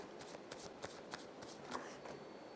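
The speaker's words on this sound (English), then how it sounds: "Shuffling for Miss Marlene." A deck of angel cards is shuffled at close range, its soft papery riffles and flicks coming in a quick, uneven rhythm at low volume.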